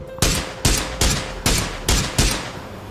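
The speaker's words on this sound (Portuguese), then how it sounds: "Tá, dei uns tiros nos caras da pedra, bebê." Gunfire in the video game PUBG: six sharp, loud shots in an even rhythm about half a second apart, each with a short decaying tail.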